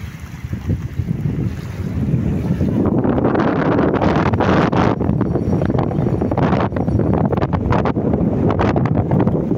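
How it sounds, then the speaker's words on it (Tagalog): Strong wind roars steadily across the microphone on a beach at low tide, building after a quieter start into a continuous loud rush, with surf-like noise underneath. "malakas ang hangin"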